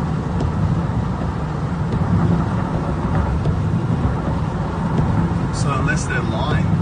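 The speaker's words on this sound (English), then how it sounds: "It's just truck after truck after truck after truck, backed up." Heavy trucks rumble along a road during a truckers' strike in Australia, a continuous low engine drone from passing traffic, fairly loud, with a brief higher whine near the end.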